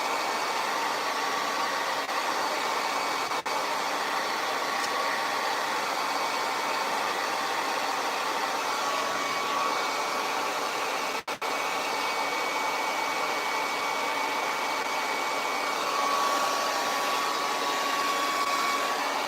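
A hair dryer blows steadily and continuously at close range, a constant broadband whoosh that holds level throughout with only a brief dip partway through, no talking.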